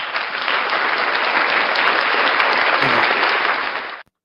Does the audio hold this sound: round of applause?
yes